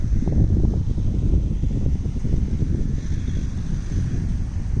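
Steady strong wind on a hilltop buffets the microphone with a continuous low rumble and gusty roar, no voices.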